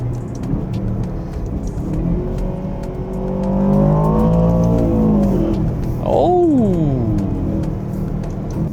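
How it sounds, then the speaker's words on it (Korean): An Aston Martin DBX 707 SUV engine revs up, its exhaust swelling into a loud, sustained climb before a sharp second rev rises and falls, heard near and alone. "에스턴 마틴에 따르면 그 배기 사운드의 특징을 두 가지 단어로 표현했어요"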